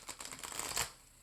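Tarot cards are shuffled by hand without bridging, a soft quick riffle of papery flutters lasting about a second, close and quiet, with no talking.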